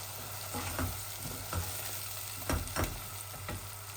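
Garlic frying in a pan while a sour rohu fish curry is cooked, a soft continuous sizzle with a few brief stirring scrapes, close and quiet.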